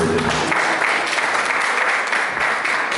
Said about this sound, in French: Est-ce qu'on peut applaudir très fort pour merci?